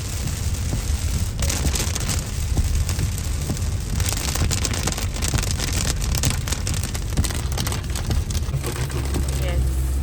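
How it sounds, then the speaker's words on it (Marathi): Steady heavy rain hiss fills the whole stretch, with a low rumble like a passing vehicle and some muffled activity underneath. "पण परत जोरात पाऊस सुरू झालेला आहे."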